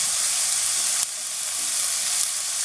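Potatoes fry in a pan with a steady, loud broadband sizzle while being stirred, a brief scrape marking the mix; no voices.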